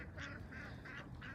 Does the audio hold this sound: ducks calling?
yes